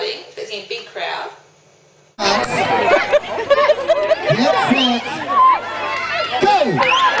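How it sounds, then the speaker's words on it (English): A big crowd chattering at an outdoor dog race event, a lively babble of many voices with laughter and nearby talk, starting abruptly after a brief quieter moment of speech. "There's been a big crowd."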